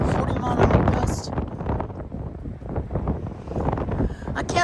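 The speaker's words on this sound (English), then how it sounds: "You can really hear the wind hitting the windows." Strong gusts of roughly 40 mph wind buffet the microphone and surroundings in Plano, Texas, a loud rushing roar that swells and eases, with a person talking over it.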